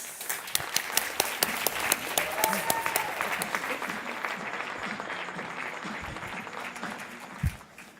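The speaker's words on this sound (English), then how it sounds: "Let's give Joe Scalia a huge round of applause." A roomful of people applaud a speaker taking the stage at a talk, many hands clapping at a steady moderate level, with a few sharper claps standing out before the applause thins toward the end.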